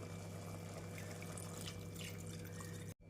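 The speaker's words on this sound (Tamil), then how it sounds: "குழம்பிற்கு தேவையான தண்ணியை ஊற்றிவிடலாம்." Water poured into a cooking chicken curry in a pot, a steady continuous pouring and splashing wash that runs evenly for about three seconds before stopping abruptly.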